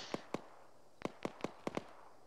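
Gunfire in the video game World of Tanks: about seven sharp, distant cracks, two near the start and a quicker cluster later, fairly faint with no talk between them.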